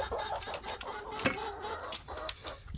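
Heritage-breed chickens on a homestead cluck softly and repeatedly in the background, a fairly faint and steady mix of short calls.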